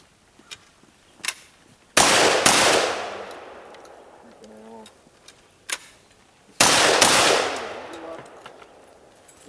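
Gunshots ring out at a memorial shooting match: two loud, close blasts about four seconds apart, each followed by a long echoing decay, with scattered fainter pops and clicks in between.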